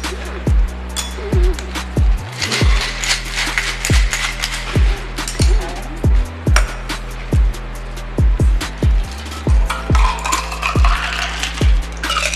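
Ice rattles in a steady rhythmic series of sharp clinks as a pineapple juice and Malibu coconut rum cocktail is mixed, loud and close.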